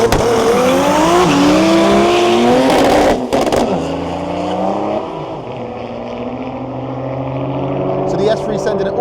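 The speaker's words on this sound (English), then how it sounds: "the diesel BM, by the sounds of it, just doing a burnout" A diesel BMW does a burnout at a drag race: a loud, revving engine howls and tires squeal for about three seconds, then the sound drops to a quieter, steady rumble with crowd and track noise behind it.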